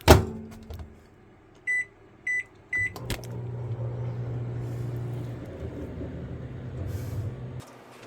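A microwave oven in an RV kitchen, melting chocolate chips with coconut oil, beeps three times as it is set, then runs with a steady low hum that stops after about seven seconds.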